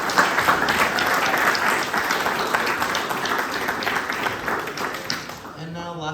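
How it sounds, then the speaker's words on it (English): Sustained audience applause fills a room at a local candidates forum, dense and steady for several seconds before tapering off at the end. "So, round of applause for all of you."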